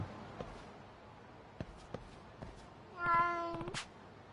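A cat meows in a video game, a single drawn-out harmonic call near the end, preceded by a few faint soft taps over quiet background ambience.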